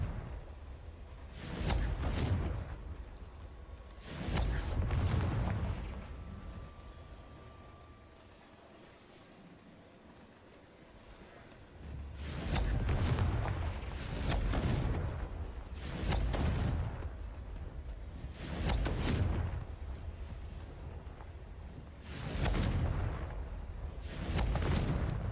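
Confringo spell blasts in Hogwarts Legacy erupt as a series of about nine heavy, booming explosions, each rumbling for a second or so, with pauses of varying length between them.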